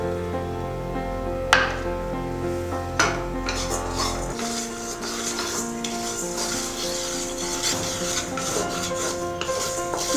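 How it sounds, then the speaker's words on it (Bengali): Whole cumin, coriander and fennel seeds dry roast in a wok, with a utensil scraping and rubbing against the metal. Two sharp knocks come early, and then the steady stirring and rattling continues nearby with no talk. "এবার শুকনো কড়াইয়ে গোটা জিরে, গোটা ধনে আর গোটা মৌরিটা আমি ভেজে নেব।"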